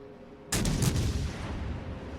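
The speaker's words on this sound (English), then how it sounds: "I am actually shooting" Battlecruiser main guns firing armor-piercing shells in World of Warships: a sudden heavy boom after a quiet start, with several quick follow-up blasts and a long rumbling decay.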